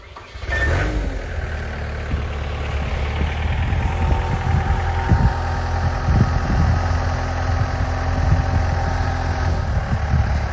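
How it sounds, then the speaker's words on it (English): A tractor engine runs steadily and loudly throughout, a deep rumbling idle with a faint knocking rhythm, close by and with no talking, while working vineyard soil in Champagne. "the tractor makes a lot of noise"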